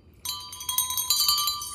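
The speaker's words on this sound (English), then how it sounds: "super cute little bells" Small brass bells with heart-shaped cutouts jingle close by in a quick run of bright, shimmering tinkles, starting abruptly and ringing on steadily without talk.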